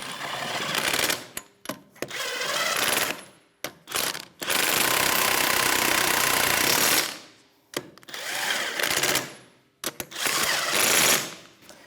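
An impact wrench drives a 21mm socket onto the lug nuts of a 2013-2018 Toyota RAV4, giving loud rattling hammering bursts, one long run in the middle, separated by short pauses.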